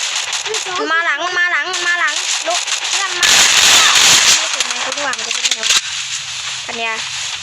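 Gunfire in the Free Fire video game: a burst of sharp cracking shots, loud and close, breaking through excited talk and game music, with quieter pops scattered around it.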